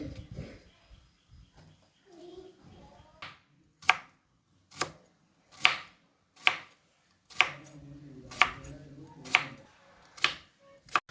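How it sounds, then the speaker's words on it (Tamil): A knife chops through raw plantain on a board for bajji, about nine sharp, separate thuds at an uneven, unhurried pace, close and clear after some quiet handling sounds. "நான் வந்து வாழைக்காயை வந்து கட் பண்ணி எடுத்துக்கொள்கிறேன்"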